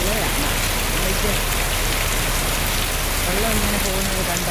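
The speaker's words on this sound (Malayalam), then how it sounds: "ചെറുകോൽപ്പുഴ ഇടിവെട്ടി പെയ്യുന്ന മഴ നോക്ക് കണ്ടോ" Heavy rain pours steadily at Cherukolpuzha, a dense loud hiss drumming on surfaces near an auto stand, with faint voice-like tones underneath and no clear thunderclap.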